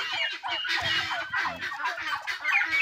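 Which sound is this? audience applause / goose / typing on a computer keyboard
goose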